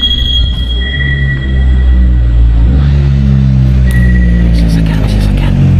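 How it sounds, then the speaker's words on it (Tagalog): A vehicle engine rumbles through the Kaybiang Tunnel, a loud, low drone that swells as it draws nearer and echoes off the walls, with people talking over it. "may dumarating na sasakyan guys"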